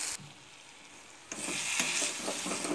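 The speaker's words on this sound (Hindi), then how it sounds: "देखिए कितने अच्छे से थोड़ा मसाला भून रहा है।" Masala spices with Kitchen King spice mix fry in a pan for a vegetable curry, giving a soft sizzle that jumps into a louder, steady crackling fry partway through, heard alone without talk.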